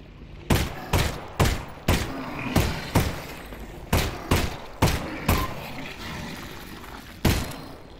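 Gunfire in Half-Life: Alyx, the VR shooter, with about ten sharp single shots spaced roughly half a second apart, then a pause and one final shot. Each report is loud and close with a short decaying tail.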